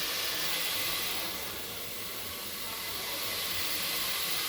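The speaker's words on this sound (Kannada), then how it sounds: "ನೋಡಿ ಈ ಥರ ಎಲ್ಲ ಮಸಾಲೆ ಹಾಕ್ಬಿಟ್ಟು ಚೆನ್ನಾಗಿ ಹುರಿಬೇಕು" Masala spices fry in hot oil in a home kitchen, giving off a steady, airy sizzle and hiss that swells and dips slightly without any break.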